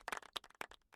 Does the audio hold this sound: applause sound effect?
yes